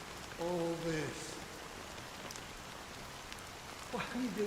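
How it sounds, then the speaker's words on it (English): Rain falls steadily in a scene of the video game Honkai Star Rail as a soft, even hiss, while voices speak briefly near the start and the end. "it's still raining."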